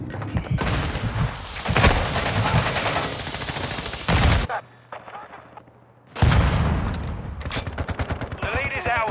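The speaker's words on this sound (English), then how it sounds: "Taking effective fire!" Heavy automatic gunfire and booming blasts rip through a Call of Duty: Modern Warfare II firefight, with loud sustained bursts, a brief lull in the middle, then more rapid fire resuming.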